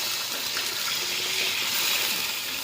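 Water pours steadily into a cooking pot over chicken, a continuous close gushing splash with no talk.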